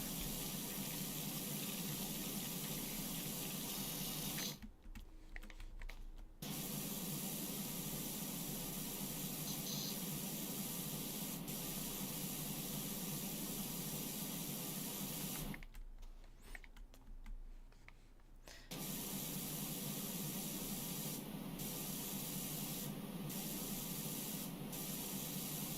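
A power washer in Powerwash Simulator blasts mold off with a loud, continuous spray hiss that cuts out twice in short gaps, with rapid keyboard clicking mixed in.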